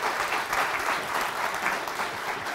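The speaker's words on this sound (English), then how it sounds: "So I wondered if you'd just give him a round of applause for that." Warm applause from a conference audience at an International House gathering, a continuous even patter of many hands clapping without pause.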